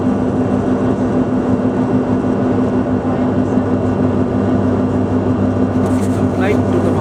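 Steady, loud roar of an airliner's engines and cabin noise during a sightseeing flight past Mount Everest and Mount Makalu in Nepal, a constant drone from start to end with a brief higher whine near the end.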